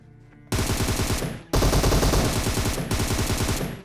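Automatic gunfire in the PUBG battle royale game, loud and close, with rapid bursts starting after a brief quiet moment and continuing almost without pause, broken by a short gap before resuming.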